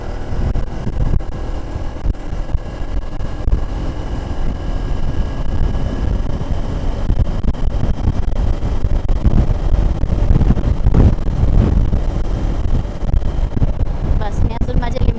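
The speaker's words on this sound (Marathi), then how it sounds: "जशी मी आता ही बाईक 100 किलोमीटर स्पीडच्या पुढे नेली" A KTM 390 Adventure motorcycle cruises above 100 km/h on an open road, its engine drone buried under steady, loud wind rush across the microphone, with a rider talking throughout.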